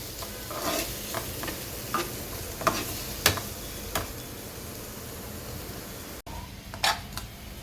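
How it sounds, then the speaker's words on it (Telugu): Tomatoes, onions and curry leaves sizzle steadily in oil in a pan while a spoon stirs and scrapes now and then, giving scattered clicks over the constant frying hiss. "వీటన్నిటిని ఆయిల్లో బాగా ఫ్రై చేసుకోవాలి."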